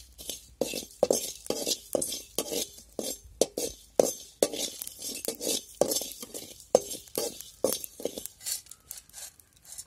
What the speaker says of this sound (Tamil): ஜீரகம் இதை வறுத்துக்கலாம்.